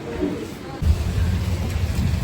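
Rain pours during the Mangaluru Dasara festival, a loud close rushing wash with a low rumble that swells after a brief softer opening; faint crowd murmur sits underneath.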